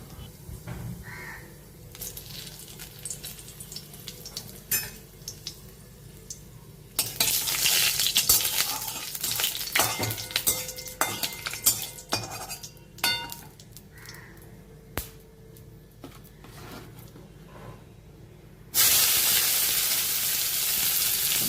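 Dried red chilies and nigella seeds fry in hot oil in a home kitchen, crackling and sizzling close by. Intermittent pops build to a louder, steady hiss from the middle, and a final loud sizzling surge comes near the end, with no talking.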